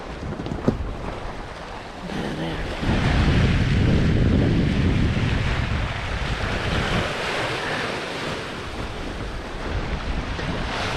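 Ocean waves slosh and break around a sailboat in confused seas off Brazil, with a steady east wind of 10 to 14 knots rushing across the microphone; the surge swells loudly mid-clip, then settles into continuous, near wash.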